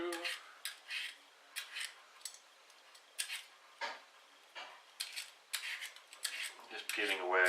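Carrots and four smallish potatoes being peeled for Icelandic lamb soup, a run of short scraping strokes at close range in a steady, uneven rhythm, with a voice talking intermittently over them.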